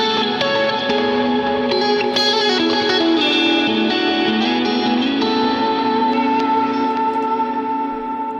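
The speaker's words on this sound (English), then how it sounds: "So that's what I do here when I kick on some distortion." A lead electric guitar played through distortion with echo and reverb effects rings out in sustained, overlapping notes and bends, loud and continuous for the whole stretch with no talking.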